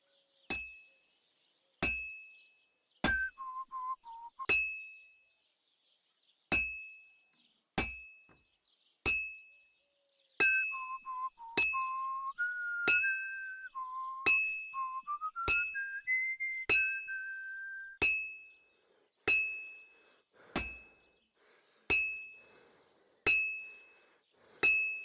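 A blacksmith in Kingdom Come Deliverance 2 hammers metal on an anvil, sharp ringing strikes spaced at a slow steady rhythm with a bright metallic ping after each, and a voice whistling a wavering tune between blows.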